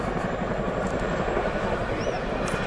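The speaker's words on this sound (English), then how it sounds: "Always great to see such a large machine really flung around." A Chinook twin-rotor helicopter flying a display at the RIAT 2009 airshow, a loud steady rumbling drone with rhythmic rotor thumping, heard from a distance with a faint voice underneath.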